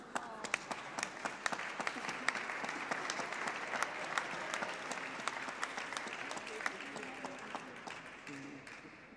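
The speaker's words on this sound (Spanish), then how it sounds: "Un aplauso." Sustained applause from an audience at an awards announcement during a university lecture session, dense clapping filling the whole stretch at moderate distance, with faint voices underneath.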